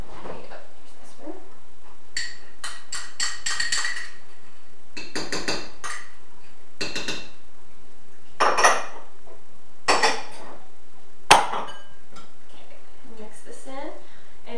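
Spicy ranch being stirred into cheesy twice-baked potato filling in a bowl: intermittent close clinks and scrapes of a utensil against the bowl, with a few sharper knocks between quieter stretches.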